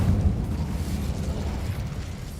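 An Incendio fire spell cast in the Hogwarts Legacy video game: a sustained, rumbling roar of flame with a heavy low end, holding steady and fairly loud for a couple of seconds with no voices over it.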